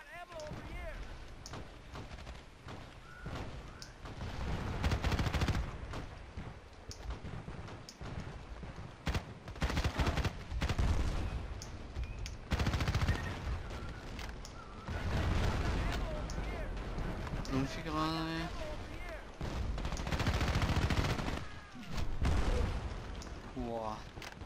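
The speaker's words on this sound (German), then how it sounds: "Da werden wir aber arg beschossen." Rapid gunfire, heavy bursts and explosions from the online shooter Battlefield Play4Free crackle in dense clusters, while someone talks in German over the battle noise.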